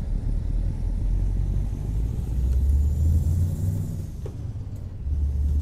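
Deep, steady diesel rumble of an Iveco 190 38 truck engine in Euro Truck Simulator 2, loud and continuous with a slight rise and fall in pitch as it pulls, no voices.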